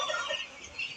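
Chickens on a poultry farm give a short, close burst of clucking, heard alone with no voices.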